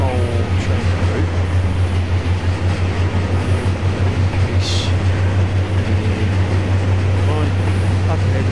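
Freight train moving on rails in the Trainz video game, a loud continuous engine hum and rolling rumble with steady low drone, while someone talks over it.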